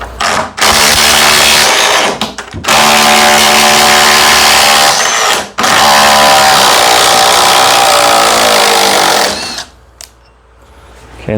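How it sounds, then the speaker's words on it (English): A power drill whines loudly in long bursts, stopping briefly between runs and trailing off into quiet near the end. "let me drill another quick hole"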